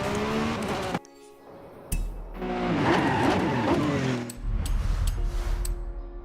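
A Lamborghini driven in Forza Horizon 5 revs loudly and close, its engine rising and falling through gear changes, with bursts of tire squeal and skidding and no voices.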